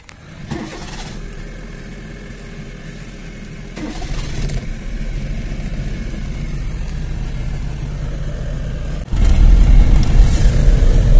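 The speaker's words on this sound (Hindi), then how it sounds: "और चक्री में यहाँ से हम डलवाएंगे जी गाड़ी में पेट्रोल" Car engine idling at a petrol station while the tank is filled, a steady low rumble up close with a few clunks and a louder surge near the end, no talk.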